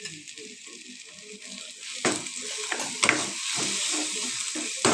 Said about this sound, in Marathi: हे चांगलं मिश्रण हलवून घ्यायचं